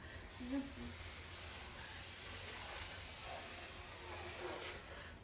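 A voice imitates a snake's hiss to teach a letter sound in a children's alphabet lesson: a long, steady, sharp hiss held for several seconds with slight dips, close and fairly loud.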